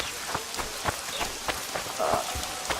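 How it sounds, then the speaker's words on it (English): Rain patters in the video game The Witcher 2, a soft hiss of falling water broken by scattered sharp taps and thuds, moderately close, with no speech. "It's raining. Lovely."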